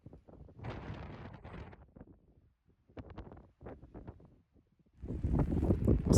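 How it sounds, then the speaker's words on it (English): Strong wind buffets the microphone at the top of a tower on an Appalachian Trail hike, with loud irregular gusts and rumble coming in bursts and swelling heavily toward the end. "I'm at the top of the tower and it is so windy"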